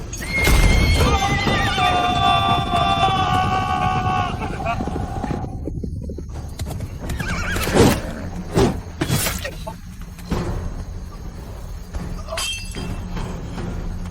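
Cavalry horses whinny loudly in layered calls, with a scattering of hoofbeats and crashing impacts behind them, amid a busy battlefield din.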